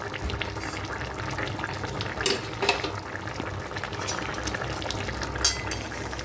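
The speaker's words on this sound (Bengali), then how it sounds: "ভালো করে ফুটছে।" Assamese fish curry boils steadily in a pot, giving a continuous bubbling simmer with a few brief clinks or splashes over the steady wash.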